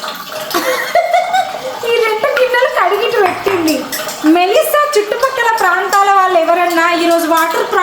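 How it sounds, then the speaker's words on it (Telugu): Dishes, pots and pans clatter and clink under running water during a long washing-up session at home, with close, busy knocks and scrapes beneath steady talking and some laughter. "రెండు గంటల నుండి గిన్నెలు కడుగుతూనే ఉంది"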